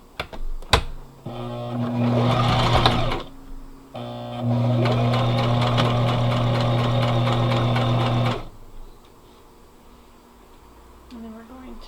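Sewing machine stitching in two sustained bursts, a short run of about a second then a longer one of roughly four seconds, loud and close with a steady mechanical hum and rapid needle rattle; brief clicks mark the pause and the end.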